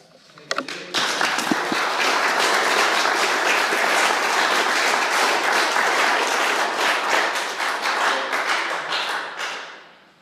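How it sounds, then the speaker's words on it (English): Enthusiastic applause from a crowd, loud and sustained for several seconds before fading out at the end. "let's give one more round of applause for Dave"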